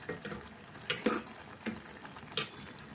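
Cooked white pumpkin kootu is spooned out of a pot into another bowl, giving a few soft scraping and clinking knocks of a ladle against metal at irregular spacing, quiet and close with no talk.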